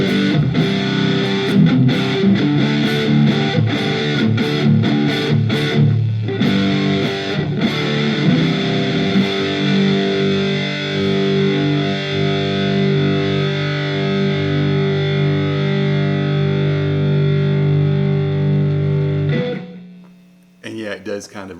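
Les Paul-style electric guitar played through a Fender Mustang LT25 amp with a light flanger and delay and no reverb, sustained distorted chords and riffs ringing loud for about twenty seconds, then cutting off into brief noise.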